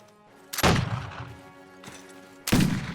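Musket and handgun fire in a Mount & Blade: Warband mod: two sharp, loud volleys about two seconds apart, each a booming crack that decays into a rumbling tail.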